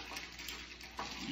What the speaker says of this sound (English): now we're going to mix it so we can get all the flavors